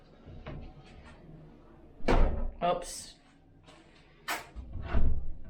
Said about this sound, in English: try closing that door